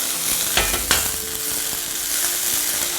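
Bean sprouts are gently stirred in a hot wok, with a steady oily sizzle broken by two soft scraping knocks of the spatula early on, close and alone.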